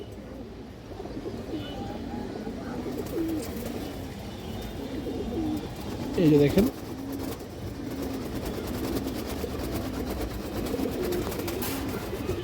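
Silver Bagha male pigeon, a ring-eyed bird with black tail, coos softly in a few low repeated phrases near the middle, while someone talks over it and a low background hum runs throughout.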